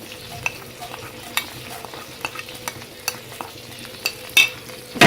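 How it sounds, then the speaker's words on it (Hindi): Ajwain and fennel seeds fry in oil in a pan over medium heat, giving a soft steady sizzle broken by sharp scrapes and clinks of a spoon stirring, with louder clatter near the end. "फ्राई होने दें मीडियम आंच पर।"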